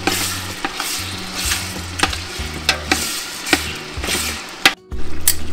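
Crushed garlic and duck meat sizzle steadily in hot oil for a duck gumbo, with a close, continuous crackling fry punctuated by regular stirring scrapes and knocks of a utensil against the pot.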